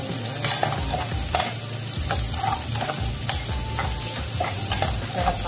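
Chopped onion sautéing in a pan for a pork ribs Bicol Express, a steady close sizzle with scraping stirs and utensil clicks running throughout, no voices.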